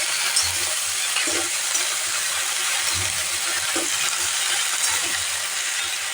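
Chopped spring onion stalks sizzle in a pan as they are stir-fried, a steady frying hiss with soft, irregular scraping from the stirring.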